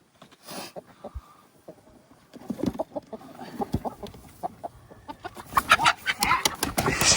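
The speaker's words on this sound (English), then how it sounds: "She's a big hen." Hens cluck and squawk close by in short bursts, growing busier and louder, with rustling and shuffling noises mixed in.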